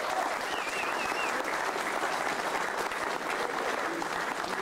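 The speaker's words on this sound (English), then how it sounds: "Let's have a big round of applause for Joe Buttitta." Audience applause fills a banquet hall at a 2003 National Football Foundation Hall of Fame dinner, steady and dense clapping sustained for several seconds without a break.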